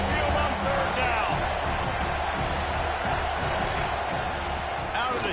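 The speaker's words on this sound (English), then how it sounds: "The Tide crowd rolling noise down onto Saban Field on 3rd down." Alabama Crimson Tide fans fill the stadium at Saban Field on third down with a dense, sustained roar that barely varies in level, while a commentator talks over it.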